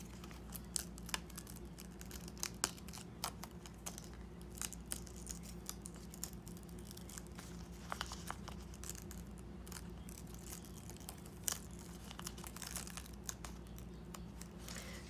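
Small pieces of cut Cricut vinyl are peeled slowly from the backing, making faint, close crinkling and light tearing ticks over a low steady room hum.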